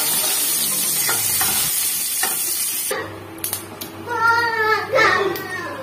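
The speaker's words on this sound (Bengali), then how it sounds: "কড়াইটা একটু ভেজে নেবো" A tempering of mustard seeds, bay leaf and dried red chillies fries in hot oil in a wok. A close, loud sizzle and spatter comes with stirring, and a voice talks over it partway through.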